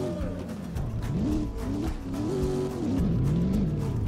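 A donk car in a video game revs to warm its tyres before a drag race: a steady engine drone with rising and falling pitch sweeps, loud and close, with no talk.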